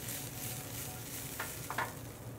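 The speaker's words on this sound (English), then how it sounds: "Give those a stir." Caper berries stirred in a frying pan make a faint, steady sizzle with a couple of brief scraping clinks of the utensil near the end.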